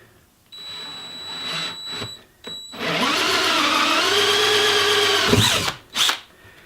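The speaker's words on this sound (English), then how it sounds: "The best way to check that is just drill it into a piece of wood, and then test it." A power drill fitted with a hole saw whirs up, then grinds steadily into a piece of wood for a few seconds before spinning down, loud and close with brief trigger bursts around it.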